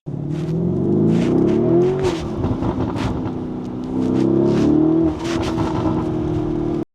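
A Lamborghini drives along countryside roads, its engine a loud close drone that rises and falls as it revs up through gears twice, with wind rush and rattles from inside the cabin and no talking.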